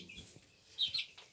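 Farmyard chickens at morning feeding with corn, giving a few faint, brief clucks and chirps in a quiet setting without talking.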